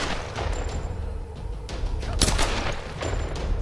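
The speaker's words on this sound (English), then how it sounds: "That was a headshot, dude." Gunfire in Tomb Raider, a rapid string of muffled shots and booms over a dense rumbling combat background, with one sharper, louder report standing out midway.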